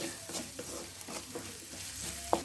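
Sliced onions frying gently in a pan over a low flame, a soft steady sizzle with light stirring scrapes and a sharper clink near the end, quiet and close with no talk.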